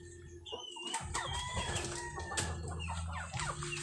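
Darag native chickens and their chicks cluck and chirp continuously in a rural yard, with overlapping calls from several birds nearby, including a larger fowl partly crossed with Shamo and Asil.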